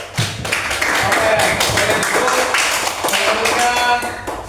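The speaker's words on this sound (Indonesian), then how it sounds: "Tepuk tangan untuk kelompok 2 ya." A classroom claps for a student group that has just presented, with irregular hand taps and claps mixed with talking voices throughout, fairly close and steady.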